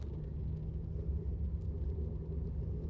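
Inside a moving car, the parents' car, a steady low engine and road rumble droning evenly throughout with no voices.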